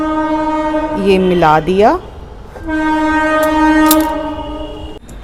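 A train passes nearby and sounds a loud, wavering horn, then a steadier tone, over continuous rail rumble and a clatter of cars. Someone speaks briefly beneath it.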